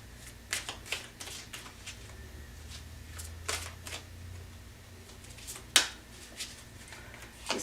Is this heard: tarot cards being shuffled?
yes